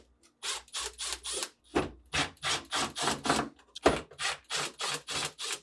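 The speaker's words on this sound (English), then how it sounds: "remove the 2 screws holding them in place using a Phillips head screwdriver" A Phillips head screwdriver turning out two screws inside a GE refrigerator's fresh food compartment: close, rapid bursts of scraping, ratcheting clicks in quick rhythmic runs, with short pauses between each screw.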